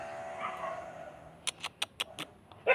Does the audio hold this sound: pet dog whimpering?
yes